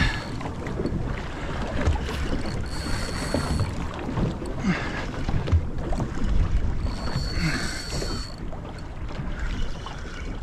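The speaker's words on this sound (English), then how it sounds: "Solid waves coming in over the top." Ocean waves wash over a fishing kayak at sea, a steady churning rush of water and wind noise that rises in surges through the whole stretch, loud and close with no talking.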